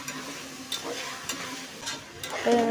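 Vegetables for Kannada-style veg pulao stirred in a pan, continuous frying sizzle with repeated scraping strokes and light clinks, near and fairly loud, no talk.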